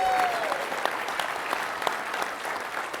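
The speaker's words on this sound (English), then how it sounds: "So give them a round of applause" An indoor audience at a football film-study event claps steadily. The dense, even applause lasts the whole few seconds at a fairly close, full level.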